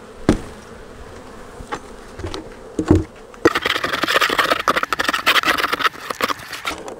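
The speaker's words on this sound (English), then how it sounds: "And that's good temperament bees right there." Honey bees swarm and buzz around an open beehive during a fall harvest and queen check. A few soft knocks come first, then a dense, close, continuous buzzing fills the last half with no talking.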